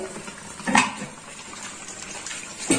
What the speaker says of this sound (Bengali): এবার আমি এর মধ্যে দিয়ে দেব মাছ দুটো। মাছ দুটো ভালো করে সেদ্ধ হবে।